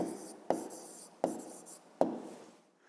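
A pen scratches on paper as a maths answer is written into a school exercise book, three short bursts of writing strokes, each starting with a sharp tap and fading, close and alone.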